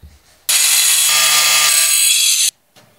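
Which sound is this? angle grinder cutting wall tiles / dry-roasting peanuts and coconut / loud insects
angle grinder cutting wall tiles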